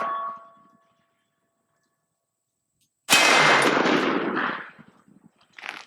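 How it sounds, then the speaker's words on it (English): A Smith & Wesson 500 Magnum revolver fired double action at steel targets: after near silence, one loud, sharp blast with a long ringing tail, then a fainter sound near the end. "So we'll fire a few shots double action and just know what we think about that."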